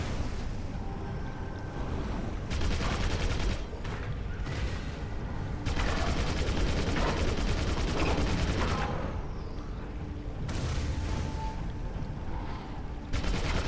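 Muffled bursts of underwater gunfire come from walker enemies in the game Deep Black, rapid fusillades broken by short gaps over a steady watery rumble.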